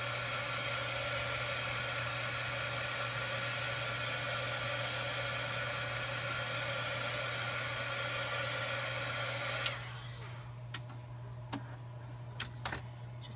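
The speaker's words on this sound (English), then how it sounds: "I am going to use my heat tool, and I'm going to zap that just for a few seconds just so it doesn't smudge." Heat tool blowing steadily to dry ink on a mug, a constant close airflow hiss and hum for about ten seconds before it cuts off, leaving faint ticks and small handling noises.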